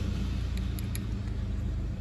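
A car engine runs at a steady idle, its low, even hum continuous and close for the whole moment, with no voices.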